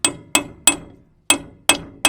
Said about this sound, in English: we have a socket here, and we're going to tap it into place